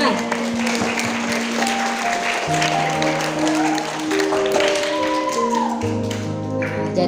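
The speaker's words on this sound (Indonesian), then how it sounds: "Tepuk tangan." A room of school students claps together in a dense, steady round of applause, with a musical tone sustained underneath throughout.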